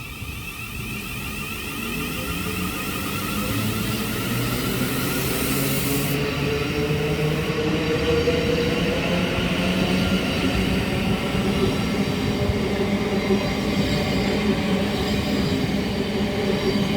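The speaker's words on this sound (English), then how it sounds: "We're heading off now as the 11:40 Thameslink service from Rainham to Luton. Being worked by 700-013." A Thameslink Class 700 electric multiple unit departs Chatham and heads into Fort Pitt Tunnel, a steady loud rolling rumble with rising motor whine and wheel noise building continuously.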